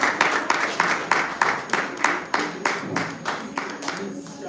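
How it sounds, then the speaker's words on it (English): An audience at a children's book launch applauds the authors: a steady round of hand clapping with regular sharp claps across the whole stretch, moderately close, thinning slightly near the end. "A round of applause for our authors."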